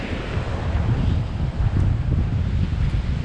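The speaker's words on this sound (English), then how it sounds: "Nice and windy." Strong wind buffets the microphone in a steady low roar, with a rushing, gusty texture throughout and no voices.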